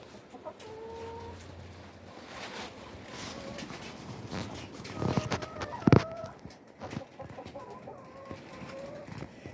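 Chickens cluck and murmur around their backyard coop, with several overlapping calls near and far and a louder squawk partway through, against a light outdoor background.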